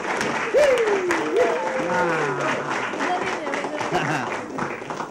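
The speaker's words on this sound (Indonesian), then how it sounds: "Tepuk tangan untuk Ari Kapri dan Mayong" Studio audience applause for the celebrity couples Ari Kapri and Mayong on a TV show, a steady bed of clapping under a host's voice and some tonal sounds.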